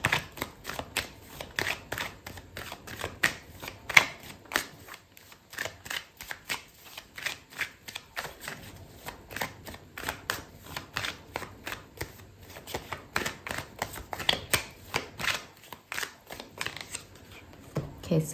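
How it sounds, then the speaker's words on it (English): Tarot cards shuffled and handled during a love reading, a steady run of quick papery flicks and snaps repeating throughout, fairly close, with a voice talking over them. "Okay, so I'm gonna pull out another card for you."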